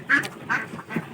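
Ducks on a small farm quack three times in quick succession, nearby and fairly loud, each call short and nasal, with no other sound around them.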